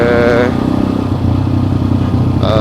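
A TVS Max 125 custom scrambler motorcycle left unridden for two weeks starts and settles into a steady, close idle with clattery mechanical rattle and a brief rev near the end.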